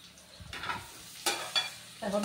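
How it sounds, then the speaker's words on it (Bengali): A spoon stirs sabudana khichdi with raisins in a frying pan, giving short scraping strokes over a soft sizzle, close and quiet with no talk. "সাবুগুলো মিশিয়ে দিব।"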